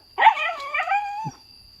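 A puppy under four months old, following the scent of a wild animal, gives one short, close yelping bark that wavers briefly before stopping, with silence around it.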